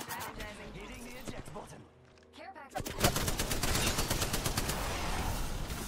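Gunfire in the battle royale game Apex Legends: a rapid, loud burst of automatic shots after a brief lull, continuing steadily, with a player's voice talking over the shooting.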